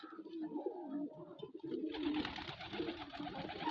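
Domestic pigeons, among them a white Baku hen, coo in low, repeated murmurs close by, then a louder burst of broad rustling noise takes over for the second half.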